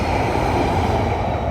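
Greater Anglia class 755 train passing close by on the tracks at a junction, a loud continuous rolling roar of wheels and engine with no voices over it.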